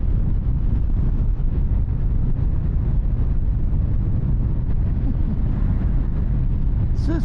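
Heavy wind buffeting a rider's microphone on a 2024 Harley Davidson Low Rider S cruising down the road, a loud constant low roar that masks almost everything else.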